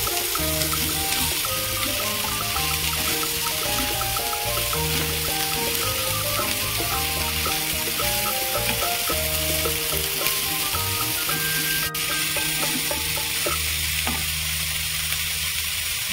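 Cauliflower florets fry in a pan with a steady, loud sizzle that lasts throughout, accompanied by background music.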